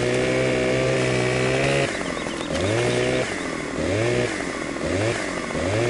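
A chainsaw roars loudly up close while a tree is felled, holding a steady high whine before dropping and repeatedly revving in surges as the cut continues.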